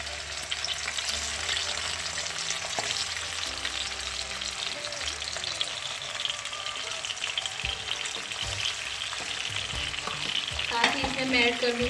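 Chicken pieces fry in cooking oil in a kadai for a korma, a loud continuous sizzle with occasional stirring scrapes, close and steady throughout.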